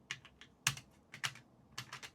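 Keys clatter on a computer keyboard in short irregular bursts of close, crisp clicks with brief pauses between.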